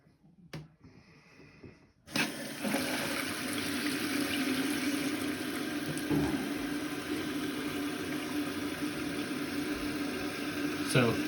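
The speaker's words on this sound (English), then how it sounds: "And turn on the water and find out." A household toilet tank refilling with water after a repair: a steady, close rushing and hissing flow that starts abruptly after a few seconds of near quiet and runs on continuously at an even level.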